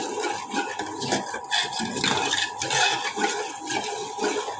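Water pours and bubbles into a pan of semolina halwa that was fried in ghee with garam masala, a continuous rushing, gurgling splash up close.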